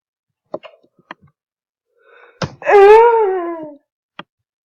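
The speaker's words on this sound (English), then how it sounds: "Couldn't even finish that yawn, geez." A long, wavering vocal yawn with a rising then falling moaning tone, heard close and loud after a few soft clicks and breaths, then a small snap at the end.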